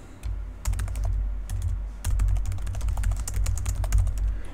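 Rapid clicking keystrokes on a computer keyboard, close and distinct, come in quick bursts over a low background hum while filling in a SolidWorks drawing title block.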